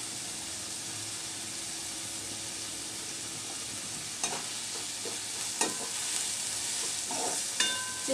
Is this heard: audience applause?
no